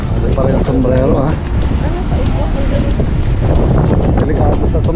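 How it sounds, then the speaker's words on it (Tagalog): Strong wind buffets the microphone on a hanging bridge at Haeundae Blue Line Park in Busan, a loud continuous roar with gusty rumble while people talk over it. "sobrang hangin."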